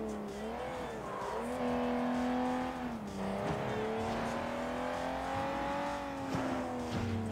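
A stolen car in the video game Sleeping Dogs drives hard with a steady engine drone that rises and falls as it revs and shifts, with occasional tire squeals, loud and continuous throughout.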